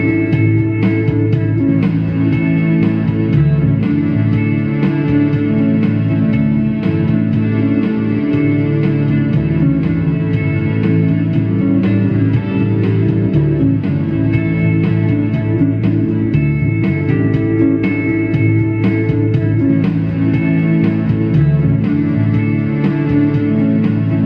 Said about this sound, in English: with this loop, basically we got the emulated bass, guitar, of course, synthesizer from the synthesizer pedal.